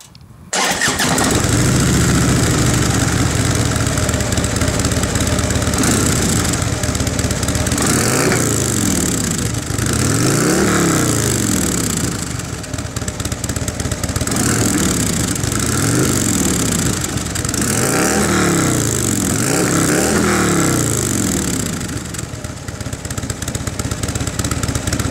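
A 2014 Harley-Davidson Street Glide Special on stock exhaust starts up and runs, a loud, close V-twin rumble that swells and falls through several throttle blips before settling back toward idle, with no voices over it.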